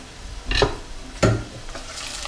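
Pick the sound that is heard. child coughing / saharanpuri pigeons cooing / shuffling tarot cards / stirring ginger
stirring ginger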